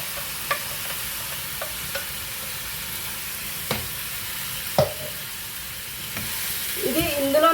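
Tomato paste going into sizzling masala for a Maharashtra-style chicken curry, a steady fry hiss with a few stirring clicks and scrapes, close and continuous, no talking.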